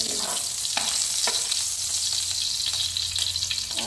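Garlic and onion sizzle steadily in a hot pan, a dense continuous frying hiss with occasional soft scrapes of stirring, no talking.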